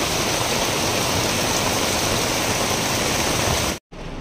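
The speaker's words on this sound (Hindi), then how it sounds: "मूसलाधार बारिश है, पूरा ऐसे बारिश में पानी जाता है गाड़ियों में, इतना ज़्यादा धार निकल रहा है।" A heavy downpour of rain hits loudly and steadily as a dense, continuous wash of noise, close by, before cutting off abruptly near the end.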